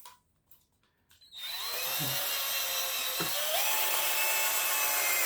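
After a few quiet knocks, a cordless drill whirs up and runs steadily, loud and close, its pitch wavering slightly as it widens a hole in a camp chair foot.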